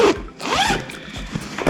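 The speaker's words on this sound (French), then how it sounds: "on a une jolie petite fermeture éclair" A backpack zipper is pulled open in one quick, close-up ripping stroke, followed by a few softer handling rustles and clicks as the fabric bag is handled.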